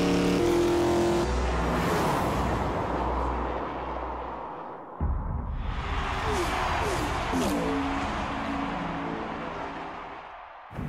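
A Ford F-150 with an EcoBoost engine driven on the Homestead-Miami Speedway oval, its engine roaring loudly, easing off briefly midway, then surging again as it passes close by.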